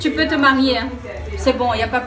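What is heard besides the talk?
None of the usual background noises is heard.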